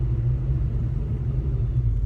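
A 1991 Ford Mustang GT engine rumbles low and steady from inside the car while driving out onto the road, a continuous muffled drone with no voices.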